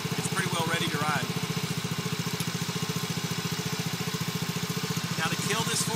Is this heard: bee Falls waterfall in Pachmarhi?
no